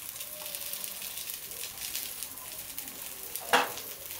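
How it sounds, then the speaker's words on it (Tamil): Paniyaram batter sizzling steadily in oil in a paniyaram pan, a dense continuous frying crackle, with a sharp brief clink around the middle of the sound. "ஸோ இதை வேகிறதுக்கு நம்ம லைட்டாக வந்துட்டு ஆயில் விட்டுக்கோங்க"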